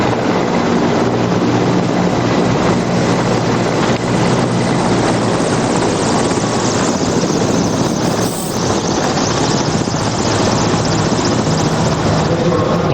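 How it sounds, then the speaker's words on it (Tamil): Military helicopters fly over Kartavya Path in Delhi during the Republic Day parade, dropping flower petals. Their rotors make a loud, unbroken throbbing roar that fills the whole stretch without letting up. "டெல்லி கடமை பாதைக்கு மேல் பறந்த முப்படைகளின் ஹெலிகாப்டர்கள் வானிலிருந்து பூக்களை தூவி மரியாதை"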